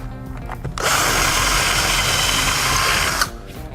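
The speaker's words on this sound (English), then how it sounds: "I'll just pre-drill that first hole that I marked" Power drill pre-drilling a screw hole for the mounting bracket of an ultraviolet water treatment system: one close, loud burst of high, steady whirring lasting about two and a half seconds between quiet handling noise.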